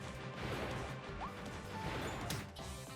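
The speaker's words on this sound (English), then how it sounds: "Let's just dash through with our Fire Dash ability to cut down on the movement time." Smashing and whooshing effects from Kirby's Fire Dash ability in the video game Kirby and the Forgotten Land, a dense rush of crashes layered over game music with no talking.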